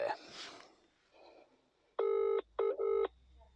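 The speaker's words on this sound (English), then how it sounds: "I thought I'd put in a phone call and see what he knows" A telephone number is dialed for a call: three loud keypad tone bursts, one long and two shorter in quick succession, after a brief quieter stretch of faint rustling.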